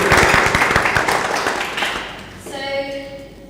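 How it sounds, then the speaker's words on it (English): A crowd at a lounge launch event on a wine estate gives a round of applause that fades out after a couple of seconds, followed by someone speaking. "I'm going to give a round of applause"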